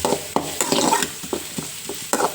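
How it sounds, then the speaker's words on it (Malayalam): Food frying in oil is stirred vigorously, with repeated scraping strokes of a spoon against the pan in an uneven rhythm over a steady sizzle, close and fairly loud. "നമ്മളിത് മൊരിയിക്കണം എണ്ണയിലിട്ടിട്ട് മൊരിയിക്കണം അങ്ങനെ അതൊക്കെ ഇളക്കി ഇളക്കി ഇളക്കി"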